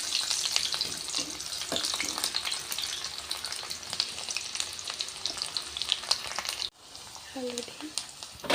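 Onions fry in a pan with a steady crackling sizzle and scattered sharp pops. The sound drops out suddenly near the end, then returns more quietly with a brief clink.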